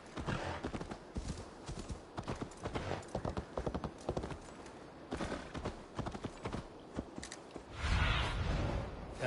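Horse hooves clip-clopping at a steady trot in Assassin's Creed Valhalla, a quick rhythmic patter of game sound effects heard faintly with a brief snort near the end.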